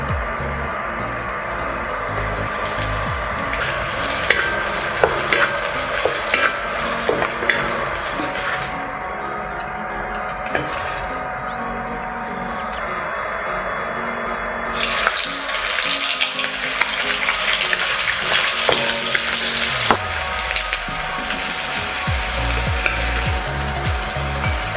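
Char siu and prawns stir-fried in a hot wok for Yangzhou fried rice, giving a steady loud sizzle with scraping and tapping of the spatula against the metal throughout, and no voices.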